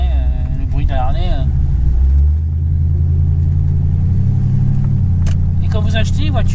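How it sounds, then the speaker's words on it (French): A 1978 Chevrolet Corvette C3 Stingray V8 idles with a deep, steady low rumble throughout, compared to a Harley, while people talk over it near the car. "t'écoutes le moteur."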